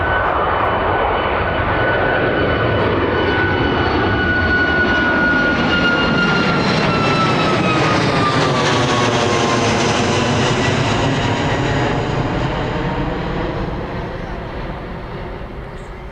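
A jet airliner departs Birmingham Airport, its loud engine roar swelling with a sweeping whine that rises and falls in pitch as it passes close by, then slowly fades away over sixteen seconds.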